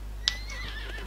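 In the motorbike game Trials Fusion, a horse lets out one drawn-out neigh that wavers and trails off. A sharp click comes just before it, and a low hum runs underneath.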